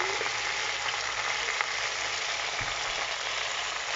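Onions for a Moroccan pastilla filling fry in a pan, a steady close sizzle running throughout with a faint stir or clink partway.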